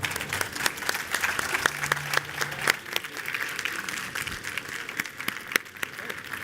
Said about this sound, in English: Please, a big applause to them.